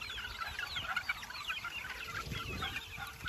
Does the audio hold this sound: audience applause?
no